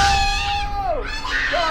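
A child screams loudly and close during a dispute over deleted PC games, one long shrill wavering shriek that bends downward and then rises again.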